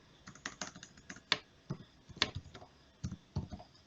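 A command being typed on a computer keyboard, with irregular bursts of crisp key clicks and a few sharper strikes, close and clear with no speech.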